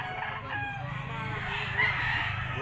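A four-year-old Golden Boy Sweater gamecock rooster with yellow legs crows, a drawn-out, moderately loud cock-a-doodle-doo over low background rumble.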